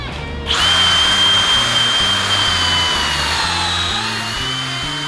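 Cordless drill held running by a twist tie on its trigger, boring through wood in a homemade pocket hole jig; a loud, steady high whine starts abruptly after a short pause and holds for several seconds with a low rhythmic rumble beneath.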